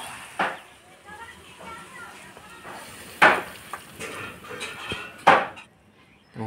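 A pot of bathua greens cooked with pitalu and a fish head is lifted off the stove, marked by a few sharp metallic clanks while people talk and children's voices carry nearby.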